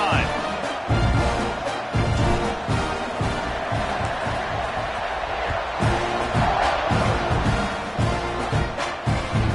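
Football stadium crowd roaring after a scoring drive, a dense, loud wall of cheering with rhythmic surges and chants, heard close and continuous throughout.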